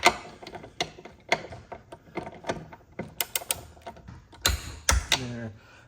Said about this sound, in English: This is kind of a cheap torque wrench